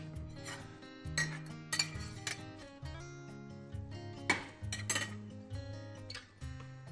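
Ingredients for a courgette soup going into a pot one after another, with clinks of metal, knocks against cookware and clatter of utensils at moderate distance, uneven and intermittent.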